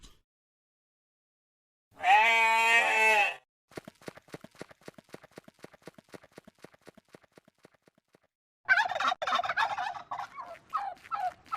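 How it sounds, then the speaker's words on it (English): A farm turkey gobbles in a loud, rapid, rattling burst near the end, after an earlier long bleating call and a stretch of quick clicking taps. "turkey,"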